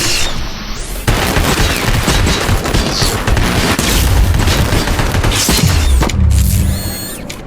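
Dense, sustained gunfire and booming blasts in the Robocop Rogue City video game, with continuous loud shots and impacts filling the whole stretch before easing off near the end.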